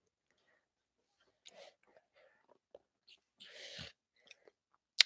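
Soft, close chewing of rice cake with sticky, crunchy bites and mouth noises in short irregular bursts, mostly quiet between them.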